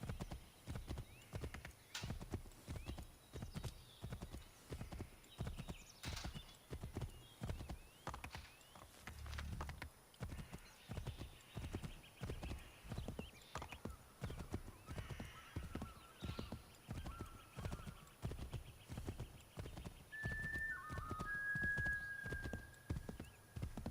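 A horse carries its rider in Assassin's Creed, with a long run of regular, evenly spaced hoofbeats clopping close by and a faint neigh rising near the end.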